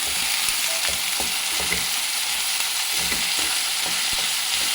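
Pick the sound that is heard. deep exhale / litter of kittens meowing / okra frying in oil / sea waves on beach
okra frying in oil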